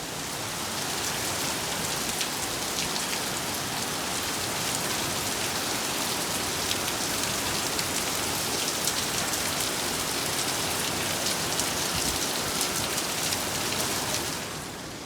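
Steady, heavy monsoon rain in Surat pours continuously, a dense hiss of drops on surfaces with no pauses, fading slightly at the end.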